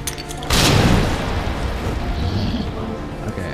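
A single loud grenade explosion from Resident Evil 2 bursts suddenly after a brief quiet start, then rumbles and decays over the next few seconds with faint background noise and a little speech.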